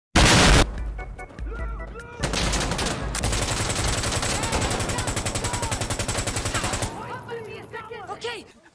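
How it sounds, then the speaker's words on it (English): Heavy rapid gunfire in Insurgency: Sandstorm, with a loud boom at the start and a later grenade blast, followed by long sustained automatic bursts that fade into scattered shots and voices. "Alright, grenade out."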